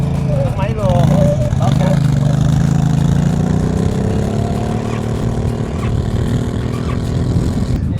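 Quad bike engine running in sandy desert, a loud steady mid-pitched drone with slight revving, close to the microphone, while people talk and shout over it.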